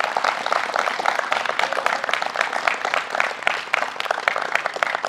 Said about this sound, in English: Clap it up for him.